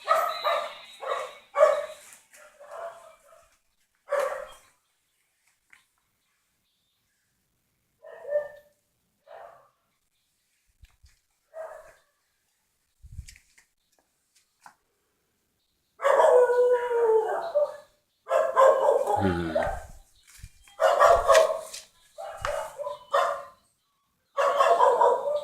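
Dog barking and howling in bursts, some loud and near, with quieter gaps between, then a longer stretch of repeated barks and yips toward the end.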